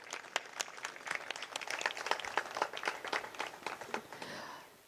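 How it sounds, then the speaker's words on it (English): Audience applause for the organizers of the Karachi Literature Festival at its inauguration ceremony, a dense burst of many hands clapping that swells and then tapers off, heard without talk. "give a big round of applause to the organizers of the Karachi Literature Festival"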